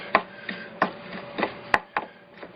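A knife chops an onion for a shrimp marinade, striking the board in about eight sharp, fairly regular knocks, close and clear with no talking.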